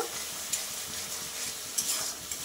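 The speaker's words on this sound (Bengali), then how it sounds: "আমি নুন হলুদটা দিয়ে দিয়েছি, দিয়ে আমি আবারও একটু ভালো করে কষিয়ে নেব।" Boal fish pieces are stir-fried with salt and turmeric in a pan, giving a loud continuous sizzle broken by a few sharp scrapes and knocks of the spatula.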